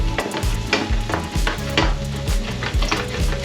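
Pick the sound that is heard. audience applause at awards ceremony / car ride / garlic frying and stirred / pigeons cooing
garlic frying and stirred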